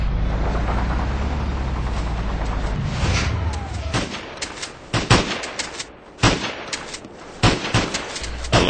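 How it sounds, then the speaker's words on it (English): Gunfire booms and cracks in a Battlefield 2 tank battle, including shotgun shots, come as loud repeated blasts over a rumbling engine and battle din, with sharp, irregularly spaced reports in the second half. "A little bit of victory shotgun action."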